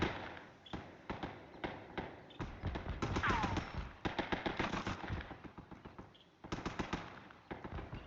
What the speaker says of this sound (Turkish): Her yerden silah sesleri.